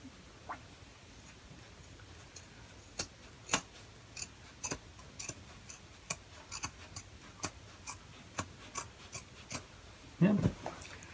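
Scissors snip through a flannel shirt, cutting outward from the armpit area in a steady series of crisp, evenly spaced clicks, close and clear, with a rougher burst of cutting near the end.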